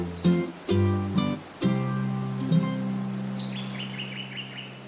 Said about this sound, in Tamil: அப்போ அந்த வழியா வந்த பென்னி குருவி மாம்பழத்தை எடுத்து வந்துடுச்சு